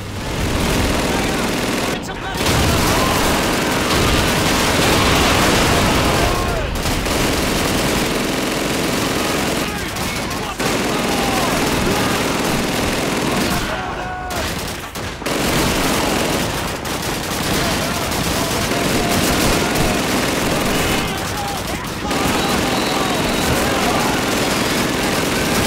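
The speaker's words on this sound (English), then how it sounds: "We welcome back John Davis and the 7th Armor with an MG42 and some of my favorite exploding red barrels." Sustained MG42 machine gun fire in the Xbox 360 game Call of Duty 2, loud and continuous bursts with brief gaps, mixed with explosions and battle noise throughout.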